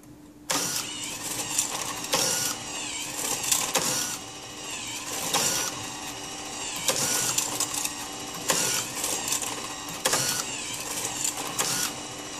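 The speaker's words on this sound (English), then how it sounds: "Now I'm going to show you how rapidly I can remove screws from the presenter one by one." An AcraFeed 50 Series automatic screw presenter feeds screws one after another as they are picked off by hand, giving a string of repeated short mechanical whirs and clicks at a quick, steady pace, close and moderately loud, with no talking.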